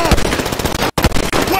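Rapid bursts of machine gun fire ring out in a GTA V gang shootout, loud and close, with short dense volleys, a brief gap, then more firing.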